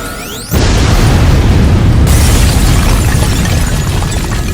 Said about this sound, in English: Oh no, self-destruct feature has been activated. Exploding in 3, 2, 1.